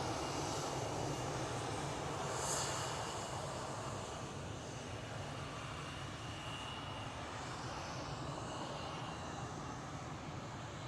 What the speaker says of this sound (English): And the KLM City Hopper E175 is following behind.